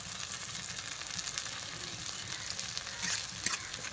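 Ginger, garlic and green chili paste frying with tomato in a pan, a steady soft sizzle with occasional stirring scrapes, close and fairly quiet.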